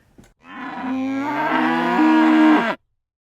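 A single loud, close cow moo swells up and holds for over two seconds, its pitch stepping slightly upward before cutting off sharply, used as a sound cue on a cattle-focused show.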